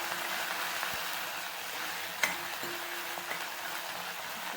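Spinach sautéing in a little oil in a pan while being stirred, a steady soft sizzle with faint scraping and one sharp tap of the spoon against the pan, close and fairly quiet.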